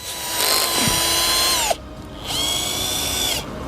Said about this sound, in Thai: เดี๋ยวเราเจาะดูอีกทีนะฮะลึกๆข้างใน